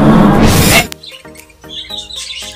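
Budgies in a newly stocked colony give short, high chirps in scattered bursts after a loud opening rush of noise, with several birds calling close by.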